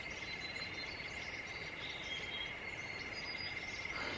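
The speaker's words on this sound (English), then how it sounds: "you always get these great insect sounds, and it's like you hear frogs" Night insects and frogs chorus beside a river campsite at Verde Hot Springs, Arizona, a faint continuous high trilling drone with a few scattered chirps layered over a soft background hiss, no voices present.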